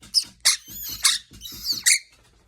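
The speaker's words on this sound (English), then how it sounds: "Squeak for message." A pet bird squeaks in a quick series of about six sharp, high bursts close up, loud and with no talking.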